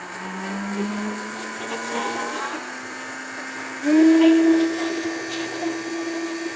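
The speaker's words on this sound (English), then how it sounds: "You let this run until it stops blending." A blender whirs through garlic, salt and hot sauce, starting at a lower steady drone, then jumping to a louder, higher-pitched whine after a few seconds, close and continuous with no talk.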